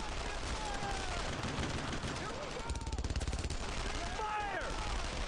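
Dense, continuous squad gunfire in the WWII game Brothers in Arms: Road to Hill 30, rapid rifle and machine-gun bursts rattling loudly throughout, with a run of tight repeated shots in the middle and faint voices underneath.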